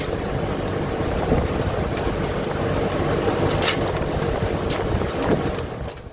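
A very old window fan driven by a motor through a new pulley runs steadily and fast, a continuous low rumbling whir with faint rattles, close and fairly loud, with no talk.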